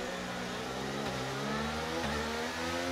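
A Formula 1 car engine revs hard in the F1 23 racing game at Las Vegas, a steady high-pitched whine that climbs in pitch, dips briefly near the end and continues without talk.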